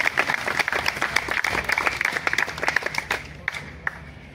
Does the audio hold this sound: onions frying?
no